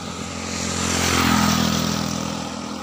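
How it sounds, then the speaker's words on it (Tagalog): Motorcycles racing along a road used as a makeshift racetrack, the engine drone swelling as they approach and pass, then fading, loud and steady with no talk. "Karira na naman sila oh. Bilis na mga motor oh."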